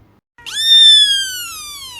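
A cat gives a single loud, clear meow that starts abruptly and rises, then holds and slowly fades, with near silence before it.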